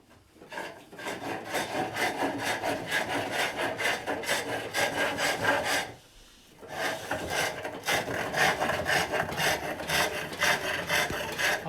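Finish cuts with a slightly dull hook tool on wood spinning on a pole lathe, a steady close rasping scrape in long strokes, briefly pausing near the middle before resuming with the same rough texture.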